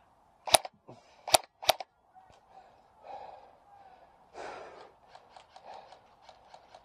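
Airsoft guns fire at a player in a close-range skirmish, three sharp nearby snaps in quick succession followed by lighter scattered pops and a rapid string of quieter shots, with some breathing and faint speech in between.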